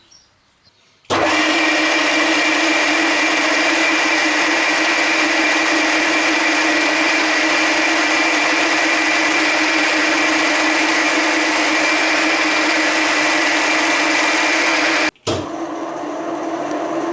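A loud, steady high-pitched whine of a drill boring holes in metal runs unbroken for about fourteen seconds, then cuts out abruptly and restarts at a lower level.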